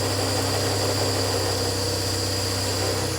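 A Porsche 911 Carrera barn-find engine idles on choke, a steady, even mechanical hum with a constant broadband hiss, moderately quiet and unchanging throughout, with no talking.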